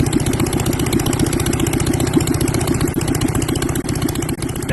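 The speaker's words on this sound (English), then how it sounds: "Here's a video of my newly acquired engine while it was sitting on another Legal Eagle XL." Engine for a Legal Eagle XL ultralight aircraft idles steadily on a test mount, a loud, continuous low throbbing with fast regular pulses and no pauses.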